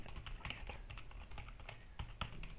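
Quick typing on a computer keyboard, a scatter of close, fairly quiet key clicks in uneven bursts with no talk.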